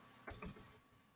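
Typing on a computer keyboard, three or four quick, faint clicks close by in a quiet room, then stillness.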